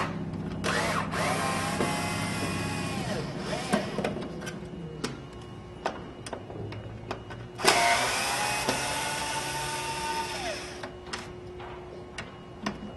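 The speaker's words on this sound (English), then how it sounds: "We're going to take out the 4 screws." A power screwdriver removes the four corner screws from a controller, whirring in two long stretches with rising and falling pitch, interspersed with clicks and small ticks, close and alone.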